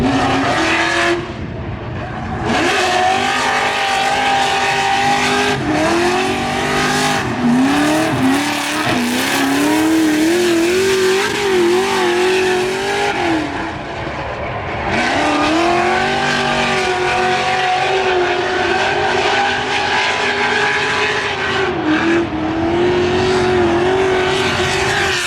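Cars lapping the Freedom Factory test track, engines revving up and down loudly and close, with tires squealing through turns, continuous throughout.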